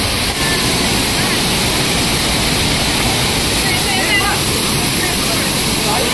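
Hidden waterfall at Aakeri near Sawantwadi pours in a constant, dense rushing roar filling the whole stretch, with a person speaking beneath the noise.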